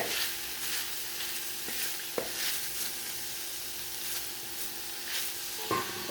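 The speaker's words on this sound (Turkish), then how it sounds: "Bu şekilde kavuralım." Meat and Charleston peppers sauté in a pan for Turkish saç kavurma, a steady close sizzle with scraping stir strokes and a couple of sharp utensil clicks against the metal.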